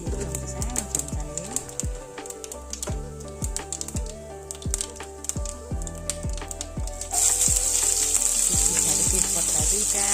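Fenugreek seeds and then cumin sizzle steadily in hot oil while a small spoon stirs, its metal clicks and taps sounding in a quick, uneven rhythm over the frying, which grows louder and hissier toward the end.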